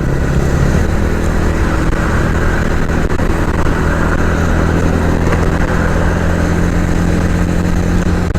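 A Ronin 225 motorcycle rides steadily along a coastal highway, its mid-pitched engine droning loud and continuous with wind rush throughout and no talking.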